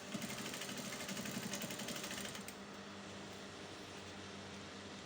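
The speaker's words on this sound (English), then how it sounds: "So I'm double folding, and I'm just going to be hemming straight" A sewing machine hems a double-folded fabric edge, stitching fast and steadily for about two and a half seconds before dropping to a low, even hum.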